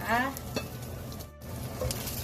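Fish tofu for a dry suki dish is stir-fried in a pan, giving a soft, steady sizzle broken by a few scraping stirs and light utensil knocks.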